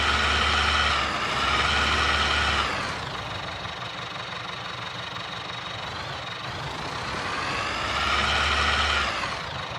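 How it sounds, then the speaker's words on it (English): A heavy offroad truck engine in the driving game Heavy Duty Challenge revs hard, climbing to a loud sustained roar, easing back to a lower drone, then surging again, with no talk. "Revving the crap out of it."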